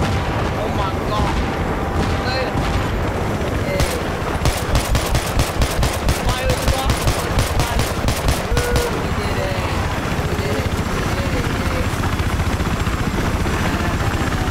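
Sustained LMG machine-gun fire in Battlefield 3, a rapid burst of evenly spaced loud shots through the middle stretch over dense battle noise with a helicopter droning throughout.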